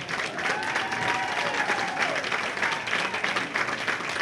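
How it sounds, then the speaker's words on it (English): Steady applause from a crowd at the 2015 PWBA Storm Sacramento Open match play, a dense wash of clapping that holds at an even level throughout. "how about a round of applause for our competitors?"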